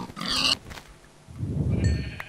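Low, rough Minecraft pig grunts rumble for about a second, preceded by a brief higher squeal-like burst, with a faint electronic tone near the end.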